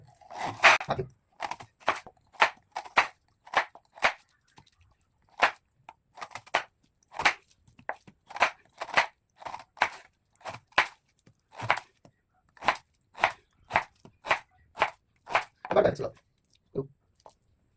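Knife slicing a banana stem into thin rounds on a board, a steady run of sharp crisp chops, close and fairly loud, about one to two per second with brief pauses, no talking over it.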